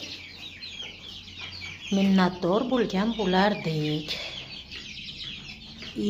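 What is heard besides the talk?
chickens clucking among chicks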